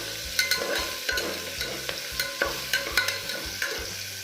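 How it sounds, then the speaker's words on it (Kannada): Onion, crushed garlic, curry leaves and hing fry in oil for a horse gram bassaru, a quiet close sizzle under a steady rhythm of sharp spatula taps and scrapes against the pan, with no speech. "ಆನಿಯನ್ನು, ಕರಿ ಲೀವ್ಸು, ಹಿಂಗು ಚೆನ್ನಾಗಿ ಫ್ರೈ ಮಾಡ್ಕೋಬೇಕು."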